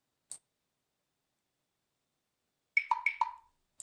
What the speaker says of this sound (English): Effect 2 is just some nice additional clicking sounds.